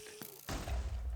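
A Minecraft explosion on a Super Hostile adventure map, near lapis blocks: a faint click, then a sudden loud boom with a heavy low rumble that keeps rolling to the end.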